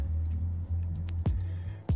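Water is added to cold brew coffee grounds, a close, steady trickling pour with a couple of sharp knocks against the container.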